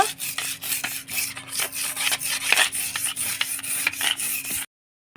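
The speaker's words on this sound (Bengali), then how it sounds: "এখানে স্লিপ হয়েছে অনেক, আমি এখন একটু এই যে এটা দিয়ে ঘষে নেব।" A slippery tube well platform being scrubbed by hand, a loud, close, rhythmic rasping rub with quick repeated strokes that stops abruptly near the end.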